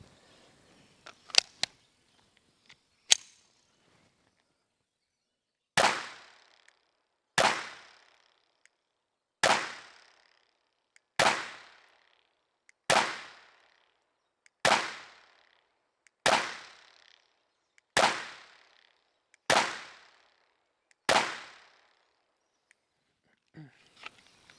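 A Taurus TX22 Competition .22 rimfire pistol fires CCI standard velocity rounds through a magazine, with about ten sharp reports spaced evenly around two seconds apart outdoors, each with a short decay, after a few lighter clicks and handling sounds.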